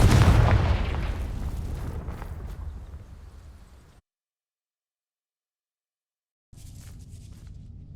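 A Confringo blasting spell explodes in Hogwarts Legacy, a loud low boom that rolls off and decays over about four seconds, then silence, then quieter ambient rumble returns.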